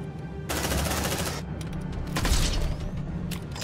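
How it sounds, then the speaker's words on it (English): Automated sentry gun in the video game Aliens: Dark Descent firing sustained rapid bursts, with a break between two long volleys and mechanical clatter around them, loud and close with no talking. "Setting tripod. Deploying sentry gun."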